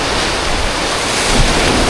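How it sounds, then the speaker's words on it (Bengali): Big ocean waves break on Nacpan Beach in El Nido, Palawan, a loud, close, continuous roar of surf with wind buffeting the microphone and no voices. "অনেক বড় বড় ঢেউ।"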